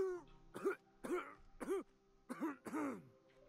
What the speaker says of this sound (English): Lots of coughing going on in here.